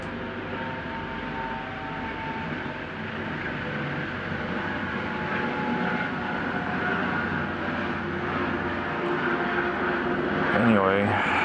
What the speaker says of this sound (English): You hear the ambulance chopper. It's got a distinct sound.